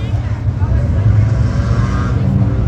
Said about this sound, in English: 15 laps of Hornet racing.